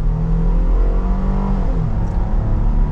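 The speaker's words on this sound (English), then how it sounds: "All right, guys, so we are setting off now in the Grand Cherokee." A 2023 Jeep Grand Cherokee L Altitude 4x4 with a V6 pulls away from a start at about half throttle, a steady close engine drone rising in pitch as it accelerates, with no talking.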